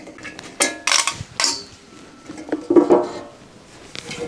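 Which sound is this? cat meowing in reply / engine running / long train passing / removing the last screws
removing the last screws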